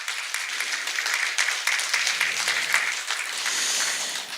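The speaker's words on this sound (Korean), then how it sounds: "또 박수 한번 보내주시면 어떨까요?" Steady audience clapping at a Buddhist press culture award ceremony, a continuous dense patter of many hands lasting several seconds at moderate loudness, with no speech over it.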